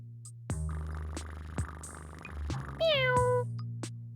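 Animated cartoon cats meow in a pet-themed seesaw logic game, several short meows over soft background music, ending with a rising chime.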